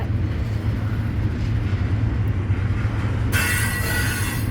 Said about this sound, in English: No, that's a wheel slip actually.